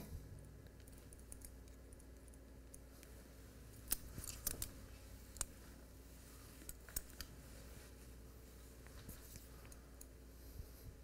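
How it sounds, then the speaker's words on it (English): Scissors snip through dry fine hair during a barber's business cut, giving quiet, close-up clicks that come in small bursts and single snips against a low steady hum. "for fine hair, I like to cut it dry so I know exactly what it's going to do when I cut it"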